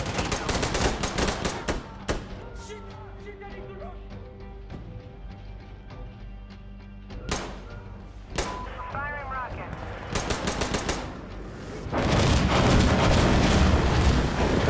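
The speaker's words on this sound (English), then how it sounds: "They sent a barrage in too, didn't they?" An artillery barrage in the video game Insurgency: Sandstorm: dense rattling gunfire and heavy booms pile up throughout, swelling into a loud, sustained roar of explosions near the end.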